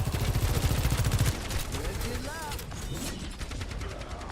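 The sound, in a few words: rocket barrage firing in the Overwatch 2 video game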